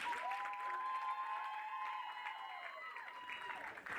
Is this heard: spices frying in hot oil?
no